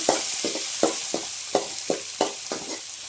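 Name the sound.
green chilies sautéing and being stirred for potato masala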